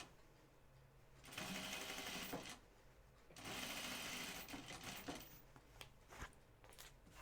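A sewing machine runs in two distinct bursts of rapid needle chatter while sewing topstitch thread into a jeans skirt seam, separated by quieter pauses with light handling clicks.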